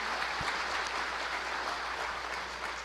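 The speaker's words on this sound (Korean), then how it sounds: "여러분 뜨거운 박수로 환영해 주시기 바랍니다." Audience applause at a regional government forum in Gyeongsang Province welcoming a government minister to the stage, a steady dense roar of clapping heard alone with no voices.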